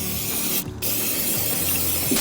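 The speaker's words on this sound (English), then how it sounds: "So I'm going to go ahead, spray it on, let it soak into that grease." Degreaser sprays onto greasy parts of a 1972 Kawasaki F9 Big Horn motorcycle in a series of short, close hissing bursts with brief pauses between them.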